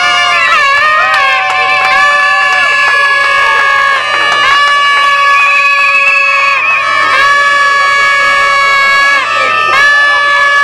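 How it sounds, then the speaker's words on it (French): A crowd cheers and shouts at an academic graduation ceremony for a management and development technical institute, with loud, continuous cheering and sustained high tones running through the whole stretch. "Sous nos applaudissements, Plamedi."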